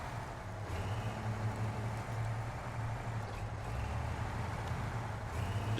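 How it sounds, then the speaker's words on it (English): In the SnowRunner video game, the big diesel engine of a truck idles and rumbles, giving a continuous, steady, fairly loud low hum that goes on without a break and without speech. "I love the sound that this truck makes."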